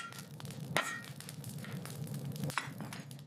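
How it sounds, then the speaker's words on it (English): Hammer blows forging a steel knife blade made from an old bearing, struck at an angle on the bevels; a couple of sharp metallic clinks stand out over steady, dense workshop noise. "hammering at an angle to push the steel from the spine down toward the edge"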